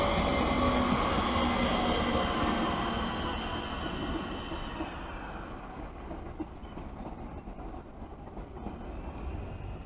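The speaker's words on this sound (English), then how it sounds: "This is another train that goes to Charing Cross like usual." Passenger train passing through St Johns station in London, a loud rumbling roar of wheels and carriages with a high whine on top, gradually fading over about ten seconds.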